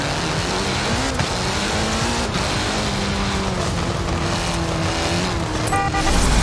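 Audi engine droning steadily in Forza Horizon 4, loud and continuous with harmonic engine tones shifting pitch through the whole stretch, with a brief tire or horn-like sound near the end.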